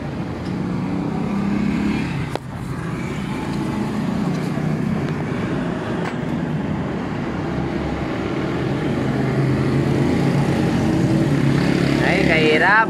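A 4-valve motorcycle engine with a straight pipe runs continuously up close, a loud rough rumbling idle with timing problems that grows slightly toward the end, while someone talks over it.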